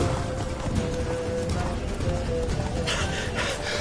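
Roach the horse gallops in The Witcher 3, hooves clip-clopping in a steady rhythm under continuous game ambience, with a brief whinny-like sound near the end.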